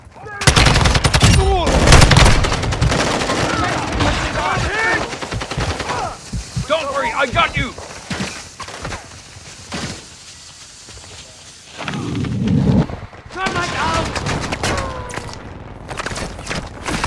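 A light machine gun fires in Call of Duty Modern Warfare II, loud sustained bursts of rapid gunfire broken by short pauses, with distant shots and players' voices mixed in.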